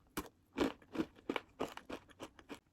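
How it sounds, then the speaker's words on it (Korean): Crunchy vegan puffed rice snack dotted with brown rice topping being chewed up close, a run of about eight crisp, crackly crunches in steady rhythm, loud against a quiet background with no talking. "살짝 파삭한 것도 있고 좀 오독하게 씹히는 것도 좀 있어요."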